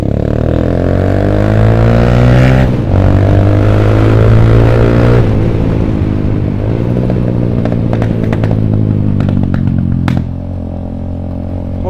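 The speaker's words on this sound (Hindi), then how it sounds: "ये बहुत बढ़िया पटाखे मारती है, फुल सिस्टम एग्जॉस्ट लगवा रहे हैं" Loud, close exhaust rumbling and revving from a TVS Apache 160 2V with an Akrapovic full-system exhaust, with sharp crackles and pops breaking through as the engine note drops.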